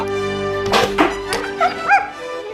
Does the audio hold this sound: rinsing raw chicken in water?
no